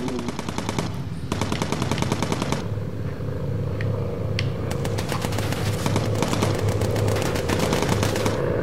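Rapid machine-gun bursts rattle against a bomber in the video game Bomber Crew, loud continuous clattering fire that cuts out briefly before resuming over a steady engine drone.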